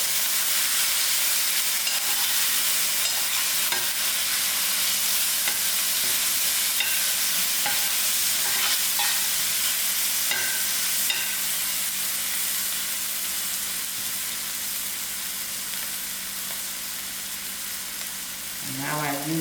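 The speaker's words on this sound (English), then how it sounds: "Stir these ingredients to fry out." Curry leaf, thyme and green chilies fry in hot oil, a loud continuous sizzle and hiss close by with occasional scraping stirs.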